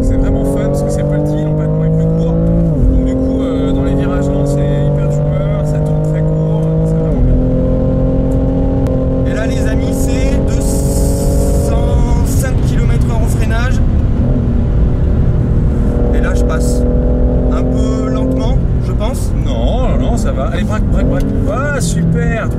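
A BMW M3 on the Bugatti race circuit: engine noise steady and loud, rising in pitch through gears with shift drops, heard from inside the car under continuous talking.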